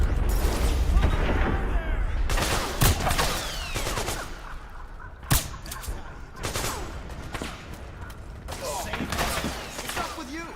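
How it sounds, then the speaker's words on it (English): Gunfire in Metal Gear Solid 4 crackles in scattered volleys and sharp single shots, some close and loud and others more distant, with shooting coming through walls while people talk over it. "They're kinda shooting through the walls here."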